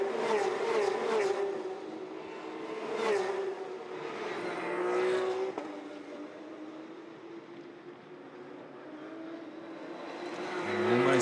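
Porsche Carrera Cup race cars at Circuit Zolder, engines howling past in repeated swells as cars accelerate and shift, fading between passes, then a fresh surge building at the end.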